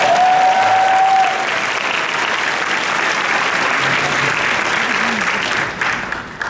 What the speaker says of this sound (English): clap for it. We want it.